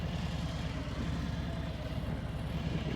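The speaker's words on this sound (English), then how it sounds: "The bike's not chugging really at all." A motorcycle engine idles smoothly with the clutch pulled in and no throttle, a low, steady rumble without chugging, continuous and close with no voices.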